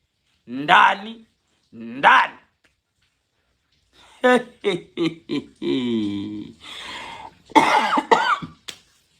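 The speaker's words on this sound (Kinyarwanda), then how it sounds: "Iyi nkorora ni ishakibe" Two loud, close coughs about a second apart, then a short silence before someone starts talking.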